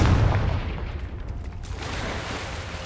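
A Confringo fire spell blasts in Hogwarts Legacy, a loud, booming burst at the start that trails off into a rumbling decay.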